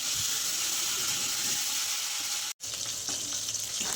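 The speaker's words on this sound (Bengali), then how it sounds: "মাছের পিসগুলো হালকা করে নাড়াচড়া করে নিলাম" Pieces of river baim (eel) fish frying in hot oil in a kadai, a steady close broadband sizzle filling the whole stretch, with faint stirring scrapes and a brief cut near the end.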